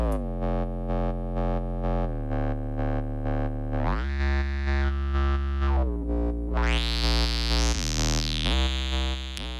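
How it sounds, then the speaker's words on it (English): A synth patch from Omnisphere 3 plays through its filter section with heavy saturation, producing thick, buzzy sustained tones that step between pitches, then sweep into a bright, distorted upper register, with no talk. "the real star of the show is the gorgeous saturation the filter section now has"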